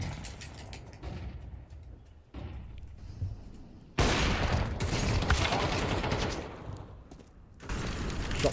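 Counter-Strike match gunfire: dense volleys of rapid shots come in bursts separated by short lulls, loud and close, with no talk over them.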